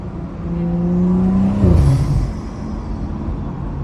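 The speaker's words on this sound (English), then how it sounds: "the turbo" A stock turbo on a BMW N55 engine, driven hard on a canyon backroad: engine drone rises steadily and holds close, then breaks into a rougher rumble as the pitch drops, continuing loud and close with no voices.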